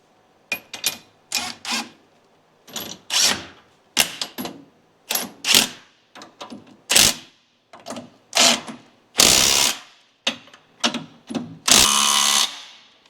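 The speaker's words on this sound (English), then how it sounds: "we'll just do them U-bolts up, but do them up evenly" Rear U-bolts on a Toyota Hilux leaf-spring suspension being tightened evenly with a ratchet, heard as a close series of short, rapid ratcheting bursts with brief pauses between them and no talk.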